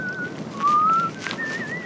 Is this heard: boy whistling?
yes